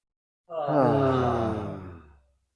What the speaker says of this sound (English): So let's take a breath.